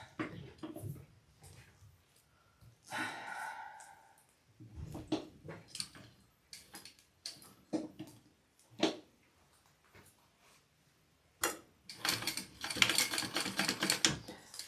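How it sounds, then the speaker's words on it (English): A sewing machine basting a custom AnnaBelle shoulder bag at night, running in short, quiet bursts of rapid stitching clatter separated by pauses, with a longer, denser run near the end. "Gonna go ahead and baste her down."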